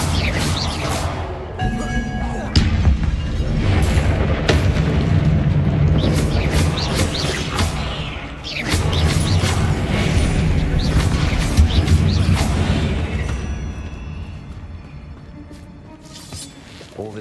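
The Bombarda blasting spell goes off in Hogwarts Legacy with deep booming rumbles and crashing debris that swell and fade over several seconds, with character voices speaking around the blasts.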